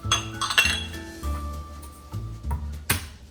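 Black peppercorns and cloves are tossed into a pot while making pozole verde, giving a bright cluster of clinks and rattles, then a pause and a final sharp clink, all close up.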